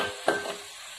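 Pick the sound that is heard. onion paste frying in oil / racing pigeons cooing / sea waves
onion paste frying in oil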